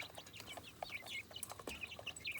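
Chickens in a backyard flock of six hens kept with a duck cluck and chatter in short, overlapping calls, close and moderately loud, over a busy outdoor background with no talking.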